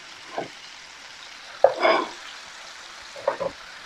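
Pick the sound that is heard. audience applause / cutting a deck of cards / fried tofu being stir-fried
fried tofu being stir-fried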